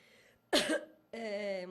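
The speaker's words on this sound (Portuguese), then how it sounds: "Eu estou um pouquinho tossindo, devido à chuva, né?" Woman with an allergy gives a sharp, close cough burst, with brief speech before and after it in a quiet interview setting.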